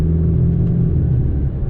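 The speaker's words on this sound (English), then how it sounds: "you've got that nice deep grunt whenever you shift gears" Volkswagen T-Roc R engine giving a deep, steady low rumble, loud and close throughout with no voices, heard from a car driving on the road.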